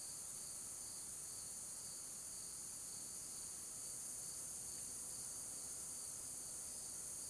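Cicadas in the woods keep up a steady, high, shimmering drone for the whole stretch, constant and unbroken, with no talking.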